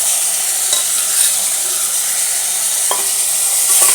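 Chicken with whole garlic, ginger and spices sizzles steadily in a hot pan, with a few faint clinks from stirring over the continuous frying hiss.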